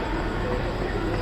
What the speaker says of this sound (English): This is a train entering, huh?